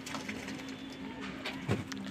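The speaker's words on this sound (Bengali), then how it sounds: "দেখতে থাকো তোমরা পায়রা গোসল করছে" Pigeon bathing, soft wing flutters and splashes over a steady low hum, with a brief thump near the end, faint and close.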